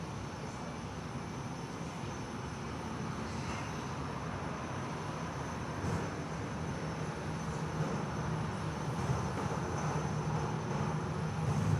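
A Jetstar Airbus A319 airliner, 19 years old, at Perth Airport gives a steady, broad engine roar. It swells slightly and holds constant throughout, at a moderate distance, with no talk.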